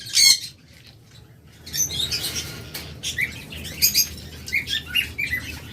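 A pair of sea green lovebirds in a cage gives sharp, high chirps and tweets in scattered bursts, mixed with brief rustles of fluttering wings, close by against a low background hum.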